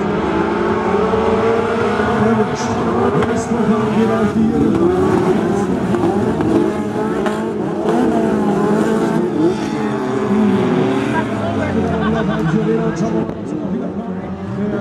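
Pack of 80 hp class race cars launching from the start of a heat at a dirt-track autocross event, a dense, continuous roar of engines revving and accelerating together, loud and close under a commentator's voice.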